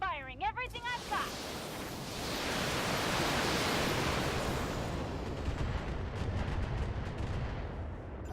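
Mech weapons fire in the BattleTech video game in a massive roaring barrage that swells into a long, dense rumble of explosions and then tapers off with scattered crackles. Some brief speech-like tones come just before the blast.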